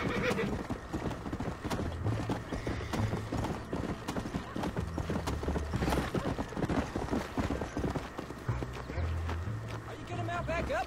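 Horse hooves clip-clop in a steady trotting rhythm in the Red Dead video game, broken by loud whinnies, while characters talk over the sounds.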